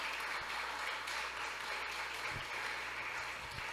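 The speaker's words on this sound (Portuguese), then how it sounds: "Você pode aplaudir o diácono Duda em nome de Jesus." A church congregation applauds a deacon on his birthday, steady applause that stays faint and distant, alone without talk.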